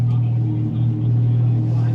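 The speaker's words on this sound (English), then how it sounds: "Valvetronic exhaust on my E46." A BMW E46 with a Valvetronic exhaust gives a steady, deep, droning rumble that holds nearly constant and sits close and fairly loud.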